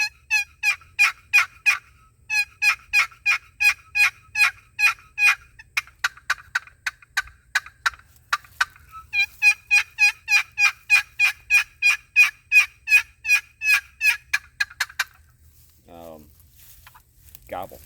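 Long series of raspy turkey yelps played on a wooden box call, in steady rhythmic runs with a brief pause midway and a faster gobble-like rattle near the end, loud and close with no talking.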